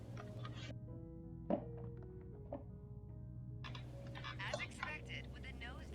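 A computer keyboard on a desk is knocked and tapped during a flight-simulator session, giving a few sharp thunks and light clicks over a steady hum, with a voice talking in between.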